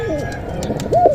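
A male racing pigeon coos in low, throaty warbling phrases, close by, with a louder rolling coo near the end over faint background chatter.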